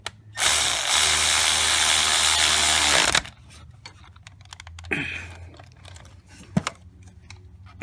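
Loud rapid ratcheting as a ratchet tightens the belt tensioner on a BMW 535i, running steadily for about three seconds, then quieter scattered clicks and metallic clatter of tools in the engine bay.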